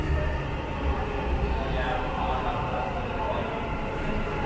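Dubai Metro train running: a steady, close rumble with broad rail and wheel noise filling the whole stretch, no distinct clacks or squeals standing out.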